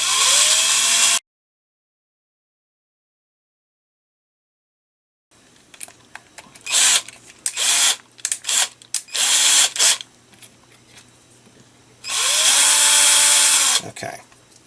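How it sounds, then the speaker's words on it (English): A power drill whirs in several short bursts, then one long sustained run near the end, with a stretch of silence early on, drilling out a screw hole in a 3D printer filament loader part. "except for I have to drill out one hole."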